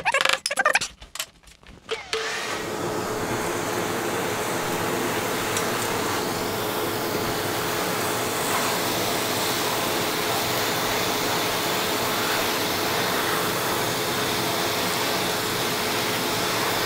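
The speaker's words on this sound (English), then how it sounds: "It seems my apartment is not dirty enough to demonstrate the vacuum cleaner" Homemade Dyson-style vacuum cleaner running indoors in an apartment, a steady loud whine and airy roar that holds unbroken for many seconds after a short clattering start-up.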